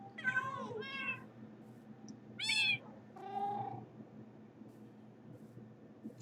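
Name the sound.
loud cats meowing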